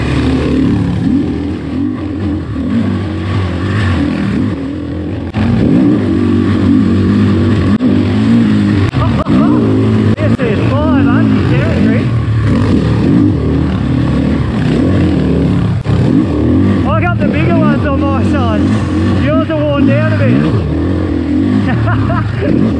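A 2022 KTM 500 dirt bike engine revs continuously while being ridden, a loud, steady roar with rising and falling pitch swells, heard under a voice talking throughout.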